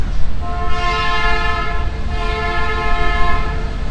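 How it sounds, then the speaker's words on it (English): A train horn blows two long, loud blasts over a steady rumble of rolling rail cars nearby. "That's what I get for doing a video from a train yard."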